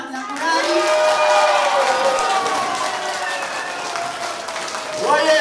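Audience applause and cheers fill a folk ensemble concert hall, a dense steady wash of clapping that swells again near the end, with a voice carrying over the crowd.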